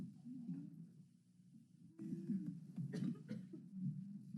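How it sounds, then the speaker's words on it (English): A few soft coughs sound close by during a Memphis City Council committee meeting, with a quiet pause before a louder cluster of short bursts near the end. "Wintertime cough."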